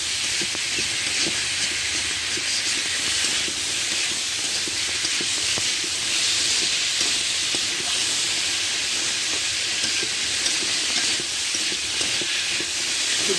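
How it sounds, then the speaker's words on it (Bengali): Bitter gourd and fish with turmeric cook in a pan, giving a steady, loud hiss and sizzle throughout with faint scraping from stirring, no voices. "এইভাবে আমি দুই মিনিট মতো নেড়ে চেড়ে নেবো"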